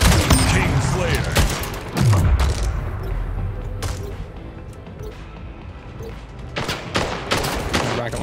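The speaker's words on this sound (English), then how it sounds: "Rocket launcher screwed him up" Rocket launcher fire and explosions in the shooter game Splitgate, several heavy booming blasts and crashes mixed with rapid gunfire, loud and chaotic across the whole stretch.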